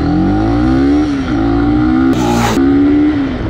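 A Honda CB300R motorcycle accelerates hard from a standstill toward 60, its engine revving loud and close with rising pitch, a brief drop and jump as it shifts gear, then climbing again.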